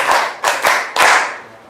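Four sharp group hand claps in an uneven pattern, close and loud, from a counted clapping game in a classroom coaching session, with no talking.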